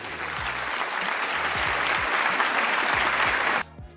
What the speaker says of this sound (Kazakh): Давайте тағы да шапалақ ұрып жіберейік.